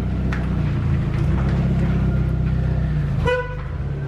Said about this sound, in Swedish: Oj, nu tutan.